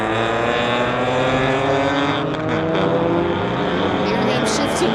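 A BMW and a Mazda street car racing side by side down a drag strip, steady engine drone with rising gear-change pitch sweeps, heard under an announcer's commentary.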